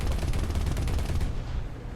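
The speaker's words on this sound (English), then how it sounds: "so you're supposed to cannon kill these" Rapid, heavy autocannon fire from the video game War Thunder pounds at BMP targets in a fast rhythmic stream of close, loud reports that thins out toward the end.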